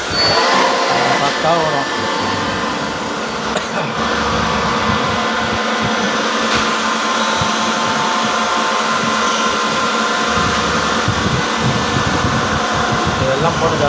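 A machine starts up and runs on a loaded job in a workshop, giving a steady mechanical whir and hum throughout, with someone talking over it.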